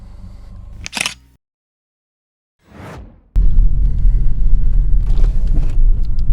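A camera shutter clicks once, sharp and close, while a car is photographed outdoors, followed by a quiet gap, a soft swish, then steady loud wind-like rumble.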